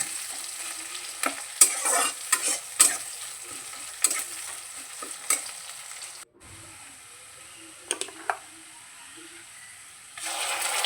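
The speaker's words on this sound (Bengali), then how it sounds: "পেঁয়াজটা হালকা ভেজে নেব, ভেজে এর মধ্যে আমি বাকি মশলাগুলি দেবো" Onion lightly frying in oil is stirred with repeated scraping strokes over a steady sizzle; partway through the frying drops away briefly, then a spatula clinks twice before the sizzle returns.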